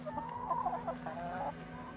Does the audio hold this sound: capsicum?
no